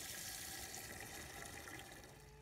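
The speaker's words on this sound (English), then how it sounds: "So I fill up the water here." Tap water runs steadily into 4-gallon jugs, a continuous close splashing rush of filling liquid with no talk, holding even for the whole moment.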